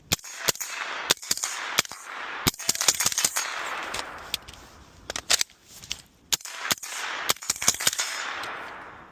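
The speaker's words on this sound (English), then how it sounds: "I can really start pulling the trigger fast" Rapid bursts of gunfire from a pistol caliber carbine, loud sharp shots in quick strings with brief pauses between volleys, no talking.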